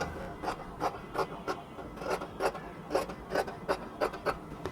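Scissors trimming the edges of luxury cotton fabric for a kameez, a regular series of rasping snips repeating about every half second, close and clear with no talking.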